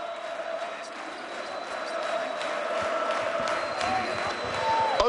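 Crowd noise fills a Turkish basketball arena in Istanbul before a Eurocup game, a steady murmur that swells toward the end, with occasional ball bounces and a commentator talking over it.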